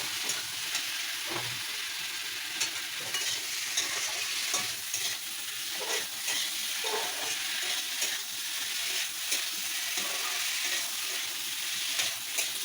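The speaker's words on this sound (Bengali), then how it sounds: "এবার আলু পটলগুলো দিয়ে দেবো জাস্ট দু তিন মিনিটের মধ্যে নাড়াচাড়া করে জল দিয়ে দেবো" Potatoes and pointed gourd fry in spiced oil, giving a continuous dense sizzle with occasional stirring clatters, steady and close throughout.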